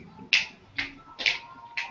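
Four sharp claps spaced about half a second apart, crisp and fairly close, with no talking in between.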